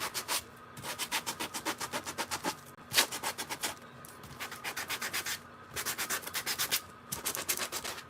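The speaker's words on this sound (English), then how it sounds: "And I'm just spot sanding in certain areas, not all over." Rapid rhythmic hand sanding, quick back-and-forth strokes in bursts separated by brief pauses, close and fairly loud.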